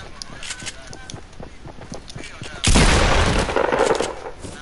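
A burst of rapid gunfire in Fortnite erupts midway, loud and sustained for about two seconds, after scattered earlier shots and voices talking excitedly in the background.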